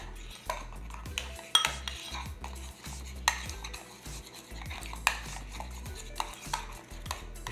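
A spoon repeatedly clinks and scrapes around a bowl while Greek yogurt filling for Oreo dessert cups is mixed, irregular close knocks with softer swishing between them and no talking.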